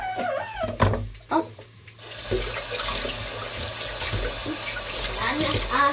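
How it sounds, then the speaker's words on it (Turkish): A tap runs into a sink for hand washing at home, a steady close splash of flowing water, with brief voices and sounds early on before the stream continues alone. "Elini yıkacaksın. Git banyoda yıkasana yavrucuğum."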